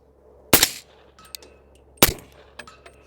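Two sharp gunshots fired through an Anechoic 30L suppressor crack out about a second and a half apart, each a short muffled report followed by a faint metallic ping of a distant steel target.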